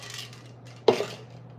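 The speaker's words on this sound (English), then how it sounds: "take a scoop of this. Put it into a blender bottle like this." A scoop of protein powder tipped into a plastic blender bottle gives one brief thud and rattle, close and alone against a faint steady hum.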